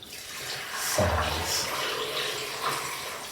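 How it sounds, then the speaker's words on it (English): Water pours from a tap into a container being filled for an interwoven sculptural design, a steady rushing flow that starts about a second in and continues under a speaking voice. "But what I would quite like to do is fill this container with water."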